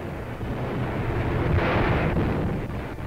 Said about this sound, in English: Our Navy is in the thick of it, firing with all its power.